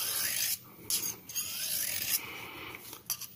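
A serrated knife drawn a few times through the flat side of a Victorinox dual sharpener, close, dry rasping strokes of uneven length separated by short pauses, with no talk.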